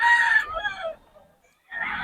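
A rooster, likely a stag gamecock, crows loudly and close by in one strong call, a short silence follows, then another crow begins.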